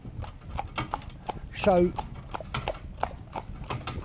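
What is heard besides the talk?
harnessed pony hooves clip-clopping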